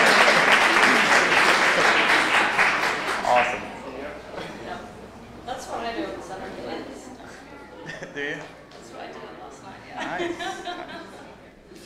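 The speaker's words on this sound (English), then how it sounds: "Let's give her a round of applause for her hair." Applause at a NASA Space Apps hackathon awards event in New York, a loud burst of clapping for about three seconds that fades into scattered claps, chatter and light laughter from the crowd.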